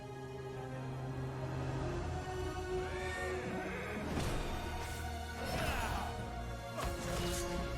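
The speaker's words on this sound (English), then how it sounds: "What is that poor horse? What has it done to end up here?" A horse neighs in World of Warcraft: Shadowlands in the Revendreth zone, giving a few wavering whinnies over a steady droning game music bed.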